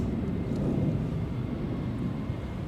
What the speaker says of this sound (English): Takeoff, we have Delta 2606 flying to Seattle, Washington, a 737-900.